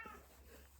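A blind, 18-year-old female cat meows once, a short, faint call under a second long, with a low background hum and no talking.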